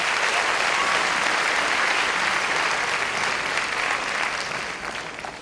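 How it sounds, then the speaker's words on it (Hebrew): An audience applauds a band at a Mamram rally, a dense, steady wash of many hands clapping that carries on for several seconds and starts to fade near the end. "אפשר למחוא להם שוב כפיים"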